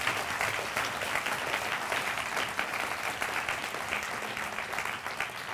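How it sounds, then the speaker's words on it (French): Sustained audience applause for a speaker, many hands clapping in a dense, even stream that carries on for several seconds with no voices over it. "On peut applaudir encore bien fort Stéphane"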